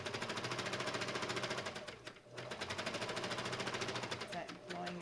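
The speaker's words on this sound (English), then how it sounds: "Hopefully this machine is set and ready to go." A sewing machine stitches fabric together to quilt it, a fast, even mechanical chatter that runs loud and close. It pauses briefly near the middle, then picks up its rapid rhythm again.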